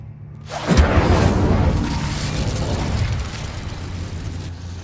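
A fiery burst from the Incendio spell cast in the Hogwarts Legacy video game, a loud whooshing blast that erupts suddenly and then settles into a sustained crackling roar over a low hum.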